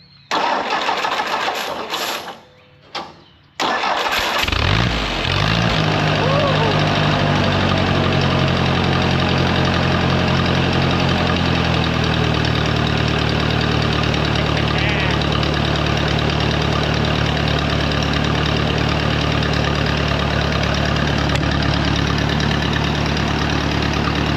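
A mystery power unit engine cranks after choke and throttle, catches within a few seconds, then runs loud and steady with a low, even drone for the remainder, close by, with talk under the opening.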